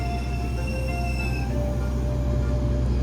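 The Argo Dwi Pangga passenger train pulls out of a station, heavy low rumbling with rolling wheel noise and faint high metallic squeals drifting over it, loud and near.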